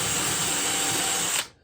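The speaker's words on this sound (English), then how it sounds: "So it drills the perfect countersink" Power drill fitted with a countersink bit boring into wood for a toolbox cart, a loud steady high whine that stops abruptly near the end, with no talk.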